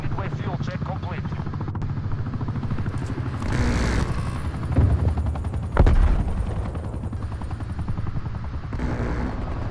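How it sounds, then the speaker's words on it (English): A helicopter approaches in a shooter video game, its thumping rotor chop running under bursts of gunfire and voices talking over it. "Somebody helicopter coming"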